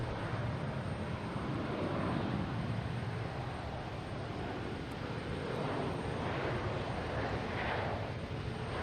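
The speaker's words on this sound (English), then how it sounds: "we have JetBlue taking off, heading to Seattle" A JetBlue airliner taking off from Boston Logan for Seattle produces a sustained, swelling jet roar from a distance, with light wind buffeting the microphone and no speech.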